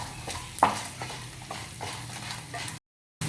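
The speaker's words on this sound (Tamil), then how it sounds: "இப்போ இந்த ஸ்டேஜில் நம்ம காஞ்ச மிளகாயை சேர்த்துக்குவோம்" Dried red chillies and asafoetida frying in a pan over medium heat, with soft sizzling and repeated scraping stir strokes that cut off abruptly near the end before resuming.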